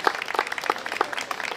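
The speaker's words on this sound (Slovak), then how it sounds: "Čiže veľký potlesk pre všetkých súťažiacich." A crowd at a pierogi competition event claps for the contestants, lively and close with individual hand claps standing out in an uneven rhythm, and no voices.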